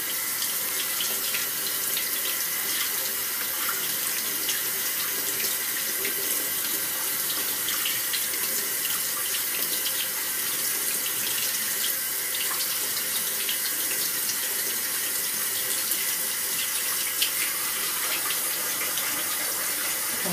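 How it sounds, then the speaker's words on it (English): Beans being rinsed under a running kitchen tap, a steady close gush of water splashing into the sink for the whole stretch, with no talk. "Give them a good old rinse"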